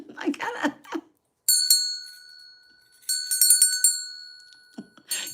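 A small bell rings in two bright, sustained bursts of repeated clear dings, loud and close, with someone talking before and briefly after.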